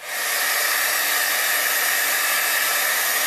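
A heat gun blows steadily while drying crinkle ribbon, a loud, close, continuous hissing whoosh of air that starts abruptly and holds even, with no talking.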